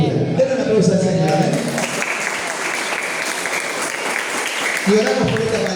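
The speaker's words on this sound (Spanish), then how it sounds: "Denle una aplauso al Señor." Church congregation claps in a steady burst of applause between stretches of talk, with voices heard at the start and end.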